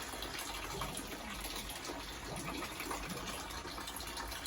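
Water gushes steadily from a garden hose into a bucket at a greenhouse garden, a constant rushing splash heard close by without any talking.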